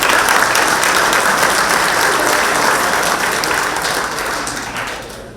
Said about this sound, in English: So a round of applause for our table sponsors.